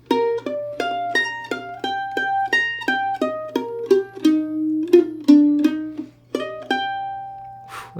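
A pickup followed by the first phrase of the B section of Daley's Reel, played on a single melodic instrument as a quick run of distinct notes that ends on one long held tone, heard alone and clearly.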